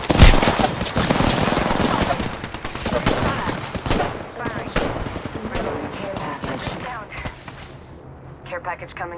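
Rapid bursts of gunfire crackle in a shooter video game, dense machine-gun volleys with heavy booms, loud and close, mixed with in-game voice callouts.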